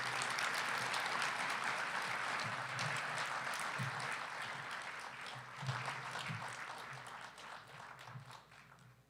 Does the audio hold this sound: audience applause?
yes